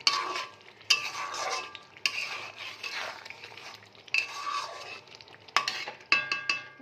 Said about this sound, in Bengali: মাংস থেকে যে জলটা বেরিয়েছে ওই জলেই পুরোটা সেদ্ধ হচ্ছে